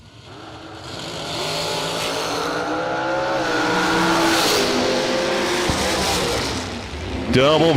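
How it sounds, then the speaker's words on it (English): A dragster at a drag strip roars down the track with a sustained, loud engine note that builds and holds, then shifts near the end, while a track announcer talks over it. "Unique dragster down in a 459."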